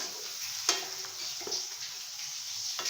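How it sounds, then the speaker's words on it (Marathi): Vegetables stirred into a hot tempering in a pan for Khandeshi-style khichdi: steady sizzle with a few sharp spoon scrapes against the pan, close and moderately loud, no voices. "लगेच सगळ्या भाजीसोबत तडक्यासोबत त्याला मिक्स करून घ्यायचं आहे आपल्याला"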